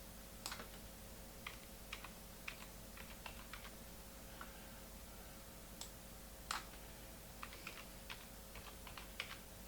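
Quiet clicks of a computer keyboard as values are entered, short scattered keystrokes in small clusters over a low steady background hum.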